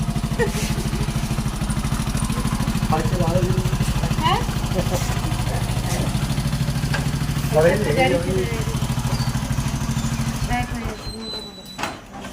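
A motorcycle engine idles with a steady low rumble and rattle throughout, while voices speak intermittently over it before it cuts off near the end.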